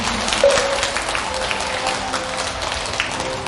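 Steady applause fills a Buddhist temple dharma hall, a dense, even clatter of many hands at moderate loudness with no voices over it.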